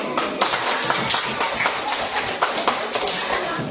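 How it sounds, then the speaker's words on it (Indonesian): A group of children claps in a physical education class after jumping exercises, with scattered, unsynchronised claps and taps going on steadily throughout and voices mixed in. "Tepuk tangan dulu."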